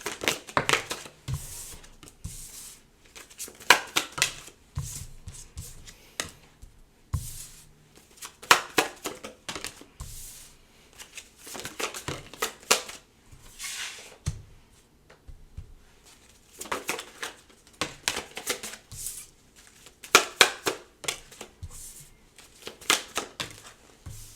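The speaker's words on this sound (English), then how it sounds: "I'm just going to pull some cards" Tarot cards being handled and shuffled close up, with repeated quick bursts of riffling, flicking and soft slapping separated by short pauses, fairly quiet and without talk.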